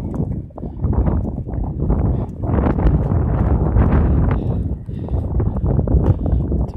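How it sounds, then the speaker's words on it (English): Wind blowing outdoors at a ranch in Villa González Ortega, Zacatecas, heavy low buffeting gusts against the microphone that rumble and roar almost continuously, rising and falling in strength. "It's a bit windy."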